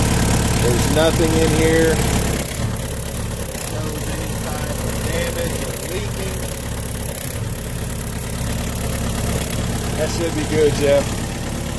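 A 2006 Yanmar B6 excavator engine runs steadily under load while its bucket and blade lift with stressed hydraulics, a continuous mid-low drone close by beneath people talking.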